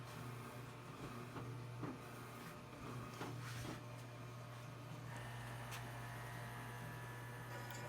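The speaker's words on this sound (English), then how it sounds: "In the background, you can hear the slicer running, and occasionally you'll hear the vacuum seal starting up." A meat slicer runs steadily while cured bacon and ham are processed, a low constant mechanical hum filling the room, with a vacuum sealer kicking on partway through and adding a brief motor whir.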